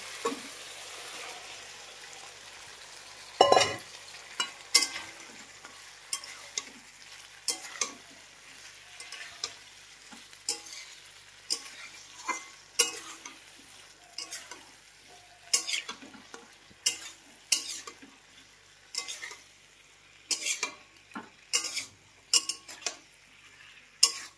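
Spice paste sautés in a pan under a soft, low sizzle, while a spatula or spoon scrapes and clinks against the metal in irregular strokes, close and with no talking.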